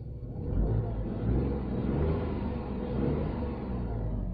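A Tata Tiago's engine is revved while the car stands still. It makes a close, steady low rumble that swells gently and eases in a few slow waves.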